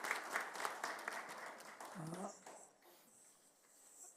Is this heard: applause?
yes